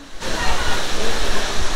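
The waterfall at St Nectan's Glen in Cornwall roars as a steady, loud rush of falling water that begins abruptly and stays close and unbroken.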